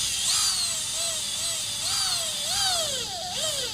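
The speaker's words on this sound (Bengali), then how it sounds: "যেমন এই এখানে আমি স্ক্রু মারবো, এই যে এখন হাই রিপ ছিদ্র হচ্ছে, আমি অল্প অল্প করে প্রেস করতেছি।" A power screwdriver whines steadily as it drives a screw through tin roofing sheet on a steel building, the motor pitch rising and dipping under pressure, loud and close with no voice.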